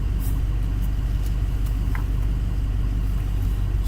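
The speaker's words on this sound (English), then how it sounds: "Sean, I got a new truck. I got a 2015 F-250." A 2015 Ford F-250 pickup with a gasoline engine runs at a steady idle, giving a close, continuous low rumble that stays even throughout with no voices.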